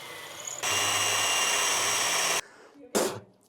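A power drill bores the heads off aluminium rivets in one sustained, close whining burst of about two seconds, followed by a short rattle and a brief second spurt.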